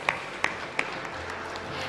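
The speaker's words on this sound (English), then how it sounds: "Let's give all of them a very big round of applause." Audience applause at a textile association's golden jubilee ceremony in Karur, faint and somewhat distant clapping with a few sharp ringing pings over it.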